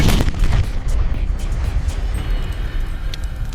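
Sherman tank cannons firing on bunkers in a staged WWII Pacific beach assault with toy soldiers, loud booming blasts layered with rumbling gunfire in a dense, continuous battle din.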